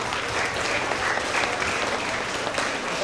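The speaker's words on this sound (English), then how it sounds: "Let's give another round of applause for all of our third grade Tigers of the Quarter" Steady, dense applause from an audience at a school award assembly for third-grade students, continuous and fairly loud throughout, with no single voice rising above it.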